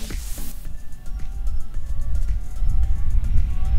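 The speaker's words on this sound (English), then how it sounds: "as I turn it up high, you can hear the motor" A USB rechargeable clamp fan runs at its highest speed, a loud, close motor drone with heavy low rumble and airy whoosh that builds slightly after a brief click at the start.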